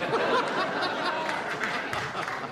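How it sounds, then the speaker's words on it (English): A studio audience at a televised Tonight Show anniversary special breaks into applause, a dense, steady wash of clapping from many hands with some mingled crowd murmur. It is moderately loud and continuous. "What the hell is with the applause?"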